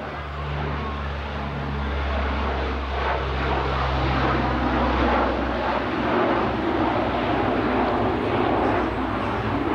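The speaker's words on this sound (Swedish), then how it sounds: "Och här kommer man in för en förbiflygning med rampen nere." A propeller aircraft makes a low pass at an air show in Jönköping with its rear ramp lowered, a loud sustained engine drone that swells and holds throughout.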